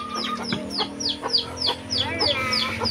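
Chickens clucking close by in a steady run of short, repeated calls with a faint background hum, no talk over them.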